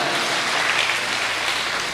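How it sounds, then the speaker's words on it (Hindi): An audience at a poetry recitation claps in a dense, continuous wash of applause, steady for the full two seconds. "तालियां बजा दी"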